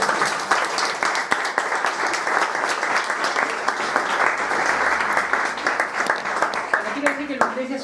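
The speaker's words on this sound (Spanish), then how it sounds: "un aplauso." An audience at a talk applauds with dense, sustained clapping that fills the whole stretch, and a voice briefly comes in near the end.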